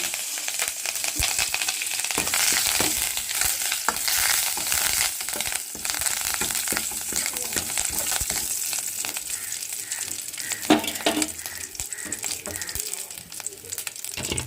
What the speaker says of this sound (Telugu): అలా పోపు ఫ్రై అవుతున్నప్పుడు కరివేపాకు వేసుకుందాం